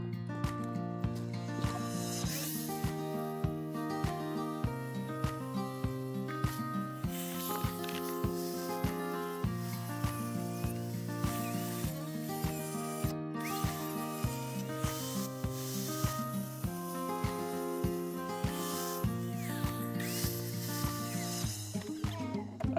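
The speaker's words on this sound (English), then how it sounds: "We got to go cut those bolts" A power tool cuts through the metal bolts on an RV hitch, a steady grinding whine with a rapid repeating buzz that holds steady throughout, moderately loud and uninterrupted by talk.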